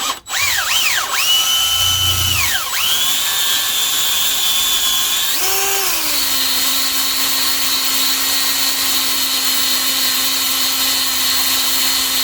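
A power drill runs steadily for the whole stretch, its pitch sliding at first and then holding a constant high whine, as it bores into the metal bottom of a car door. Close and loud, with no talk.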